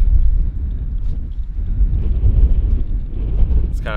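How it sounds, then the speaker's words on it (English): Wind buffets a microphone outdoors near old uranium mines in Capitol Reef National Park, a loud continuous low rumble throughout. "Man, this wind."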